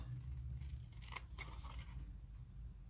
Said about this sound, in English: We'll probably cut that brown bit off.